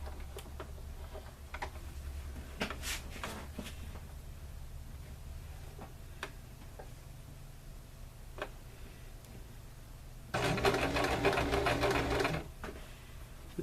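A sewing machine stitches a tote bag seam with a half-inch seam allowance, a steady soft whir with light ticking throughout, rising to a louder, faster burst near the end for a back stitch.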